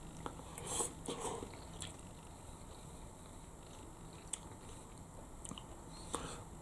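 Soft chicken noodles in broth are chewed quietly up close, with faint, irregular bites and mouth sounds and no talking.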